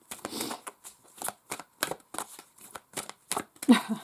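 Tarot cards are shuffled and pulled by hand, making a series of crisp riffling bursts in an uneven rhythm, close and fairly quiet, with no talking.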